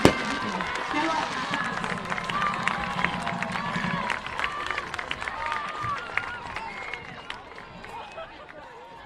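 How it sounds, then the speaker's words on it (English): Stadium crowd clapping and cheering at a high school homecoming football game, broad sustained applause with a low hum fading after a few seconds, heard at a distance. "Please join me in one last round of applause at this time for our homecoming king and queen"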